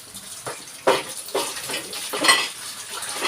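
Plates being washed after a meal, with intermittent clinks and scrapes of dishes and cutlery against running or splashing water, close by and moderately loud, with no talking.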